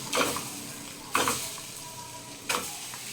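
Capsicum rice masala with boiled eggs, chili powder and turmeric sizzles in a pan as a spoon scrapes through it three times at roughly one-second intervals, each stir a brief bright rasp over the constant frying hiss; no talking.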